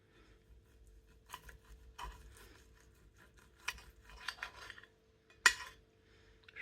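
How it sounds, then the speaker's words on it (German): Knife cutting into an air-fried steak smoked with salt, producing scattered scraping and clinking strikes of cutlery against a plate, with a sharper clink near the end; quiet and close, no talk. "Und jetzt wird das Steak angeschnitten."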